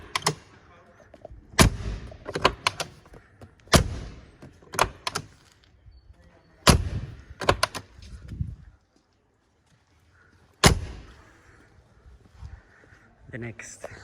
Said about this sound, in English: Door sound G-klasse. First test 2020